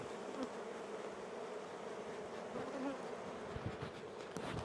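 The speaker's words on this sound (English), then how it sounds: "the bees, they're just everywhere" Honey bees swarm around an open hive in a dense, continuous buzz, close and steady throughout, with no voices.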